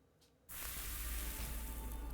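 In the video game Nikke, after a brief quiet moment, a loud, broad sizzling hiss starts abruptly and continues steadily, like something melting or frying on a hot surface.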